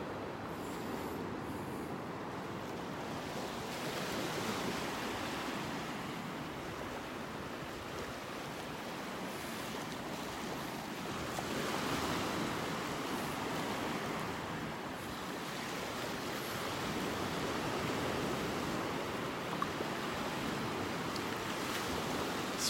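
Ocean surf rolls onto a beach in North Naples, Florida, a continuous low wash of breaking waves with gentle swells in loudness and no voices.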